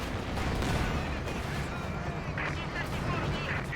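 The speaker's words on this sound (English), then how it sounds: "Yes, 120 now with the counter barrage." Artillery counter barrage in a tank strategy video game: a dense, steady rumble of distant gunfire and shell impacts, with continuous commentary over it.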